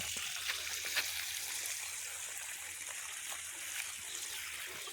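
Water flows out at a farm in a continuous, fairly faint rushing stream, an even wash of splashing with no clear breaks.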